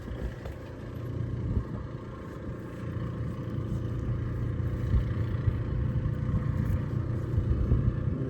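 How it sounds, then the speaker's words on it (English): A generator runs outdoors in the wind, giving off a steady, moderately loud low rumble that drones on without a break and slowly builds a little. "Don't you just love the sound of a generator?"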